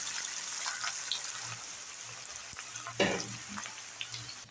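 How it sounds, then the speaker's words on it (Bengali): Chopped onions sizzle steadily in hot oil with cinnamon, cloves and cardamom, a continuous close frying hiss broken by a sharp clatter and a louder burst of stirring near the end. "পেঁয়াজটাকে ভালো করে ভেজে নেব, তবে খুব একটা লাল করে ভাজবো না।"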